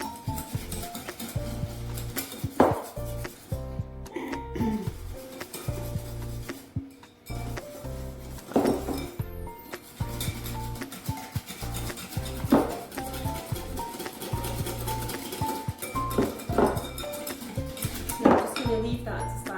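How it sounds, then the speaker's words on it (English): A whisk or spoon beating toad-in-the-hole batter with milk in a bowl, a continuous busy clatter and scrape of utensil against the bowl, close and loud, with occasional clinks. "Beat well between each addition of milk."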